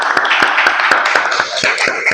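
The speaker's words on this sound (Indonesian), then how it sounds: "Baik, tepuk tangan buat kelompok 1." Classroom applause for a presenting student group, a brief burst of brisk, close hand claps in a quick irregular rhythm from several people.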